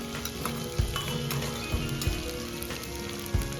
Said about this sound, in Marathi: तो तेलामध्ये सोडून द्यायचा त्याला थोडा वेळ परतून घ्यायचा